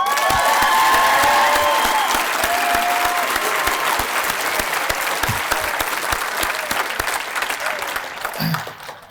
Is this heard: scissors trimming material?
no